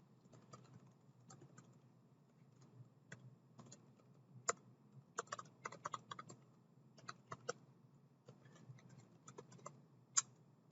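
Someone types an email and password on a computer keyboard, giving quiet, irregular clicks and taps in short bursts with occasional sharper key strikes, alone and close up.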